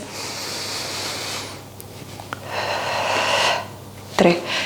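Someone breathes in and out during a morning strength workout. Two long, close, airy breaths come in sequence, hissing in and out, and end with a short sharp exhale or snort.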